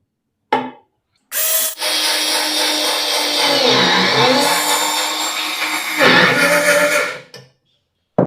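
An Ingco cordless screwdriver drives a 1.5-inch screw into aluminium, a loud close motor whine running steadily for several seconds with a brief stop and restart, then cutting off.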